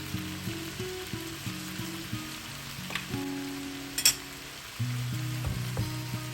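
French beans sauté with shallots, garlic and gochugaru in a hot pan, a steady soft sizzle broken by occasional stirring clatters and a brief sharp pop.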